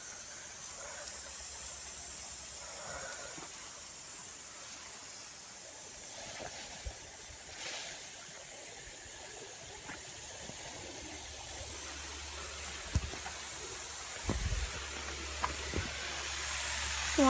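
Zone 2 of a lawn sprinkler system runs, with 2-inch PS Ultra and 4-inch Pro spray heads putting out a steady, soft hiss of water spray that goes on without a break, broken near the end by a few dull knocks close by.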